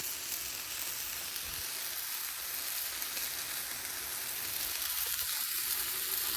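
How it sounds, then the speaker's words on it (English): Ground beef frying in a pan, giving a steady, soft hiss of sizzling fat that continues without a break. "ground beef already started to cook up here"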